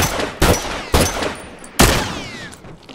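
Rifle fire in The Last of Us Remastered multiplayer: four sharp, loud gunshots at uneven intervals, each followed by a ringing tail that decays before the next.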